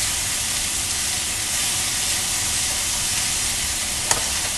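Rice is sautéed in a pan over fairly high heat, making an even, continuous frying hiss at moderate level, with one sharp click near the end.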